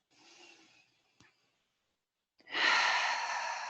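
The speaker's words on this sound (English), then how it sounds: "perhaps taking a conscious breath in and out" A conscious breath in and out during a guided meditation: a soft, quiet inhale is followed by a pause, then a louder, airy exhale that carries on steadily to the end, close and alone.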